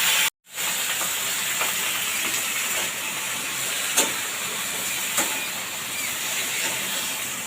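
Washed vegetables drop into hot oil tempered with dried chilies, setting off a loud, continuous hiss and sizzle after a brief silence, with a couple of faint clicks from the pan.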